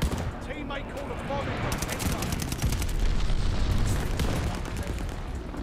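NZ-41 rifle fire in a Call of Duty: Vanguard match, with crisp automatic bursts and overlapping shots from other weapons and booming blasts beneath, sustained over several seconds with a voice faintly talking under the shooting.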